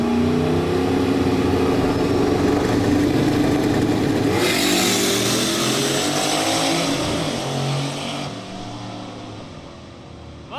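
Turbocharged Mustang launching down a drag strip, its engine roaring loudly and climbing in pitch as it pulls away, then fading into the distance over the last few seconds.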